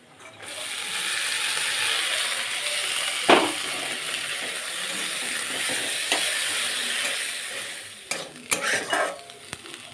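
Fiddlehead ferns frying in oil with onions and chillies give a steady close sizzle, with scraping stirs and a few sharp utensil knocks near the end.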